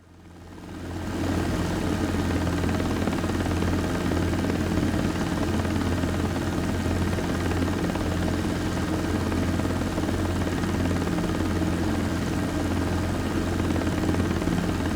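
Helicopter flying in the X-Plane 12 flight simulator, a loud continuous rotor thrum and turbine whine that swells in over the first second, then holds steady and close with no voices.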